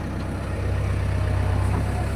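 A tractor engine idles steadily nearby, a continuous low throbbing rumble that holds alone with no voices over it.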